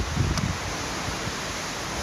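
Wind gusts through trees on the Appalachian Trail, making a steady broad rushing and rustling with some buffeting against the microphone, heard alone.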